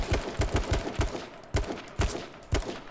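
Rapid bursts of gunfire from the video game H1Z1, loud close shots fired in quick rhythmic volleys of several rounds each, separated by brief pauses.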